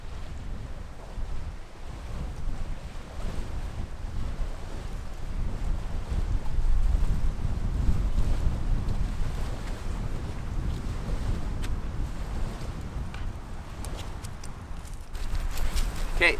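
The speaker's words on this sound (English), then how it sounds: "it is a little bit windy" Wind blows at a backcountry lake campsite in Algonquin, a continuous low rumbling gust noise buffeting the microphone, swelling louder midway and then easing slightly.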